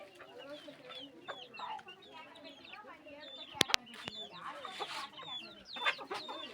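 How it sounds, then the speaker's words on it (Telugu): Hens and roosters clucking nearby on a farm, a busy overlapping chatter of calls with a few sharp louder squawks, while a person talks over it. "కోళ్ళు పుంజులు బయటకు లోపల పడుతున్నాయి."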